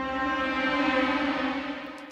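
The Haunted Swell combi from the Symphobia Pandora library plays a sustained orchestral tone, a horn slowly bending against a string arpeggio, holding steady before tapering off at the end, with no speech.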